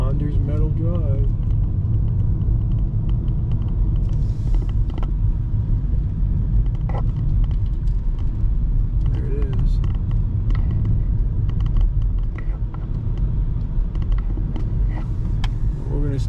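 A car driving along back roads on the way to San Diego, its engine and road rumble steady and close throughout, with people talking over it.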